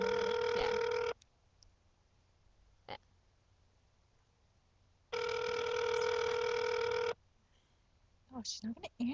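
Two long bursts of a phone ringing tone during an unanswered call, separated by a few seconds of quiet, followed by brief muffled voices at the end.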